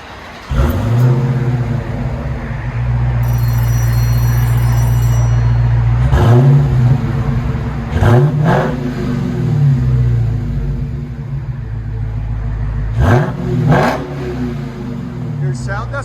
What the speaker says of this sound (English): we got a 2021 Dodge Charger SRT Hellcat. This is what it sounds like before.